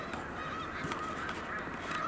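Snow geese honk steadily in a flock on Cayuga Lake, their overlapping calls forming a continuous, fairly close chorus with no voices over it.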